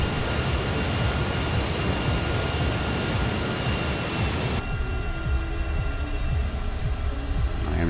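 An RAF Harrier jet taxis in Microsoft Flight Simulator, giving a steady, loud jet engine roar with a high whine that holds continuously and drops slightly in brightness midway.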